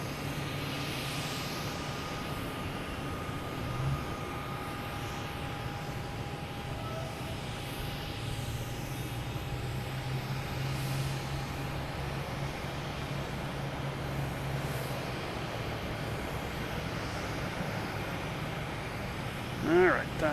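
A British Airways airliner lands at Boston Logan, its engine noise a steady, fairly distant roar with a faint whine that holds throughout, joined by a brief louder thump near the end.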